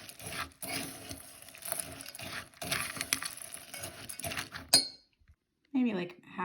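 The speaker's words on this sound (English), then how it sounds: "Going to add the butter to the stuffing. Just going to mix that up" A spoon works butter into stuffing in a bowl for a casserole, giving a run of close scraping and clinking clatter that stops abruptly, followed by a short pause and a brief voice.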